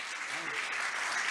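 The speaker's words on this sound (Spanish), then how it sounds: "le damos un fuerte aplauso de bienvenida a la tía y al sobrino" Church congregation clapping in welcome during an evening service, a steady, dense burst of applause throughout, fairly close and even in loudness.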